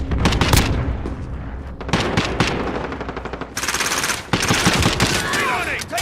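Rapid machine-gun fire and single shots crack loudly in a shooter video game match, bursts stacked closely with a few booms, and a voice speaks between them.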